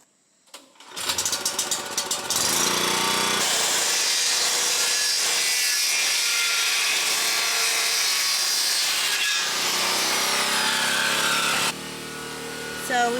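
A power saw cuts through 2 by 4 wooden boards for a DIY outdoor couch, a loud sustained whining cut that starts after a few handling knocks and stops abruptly near the end.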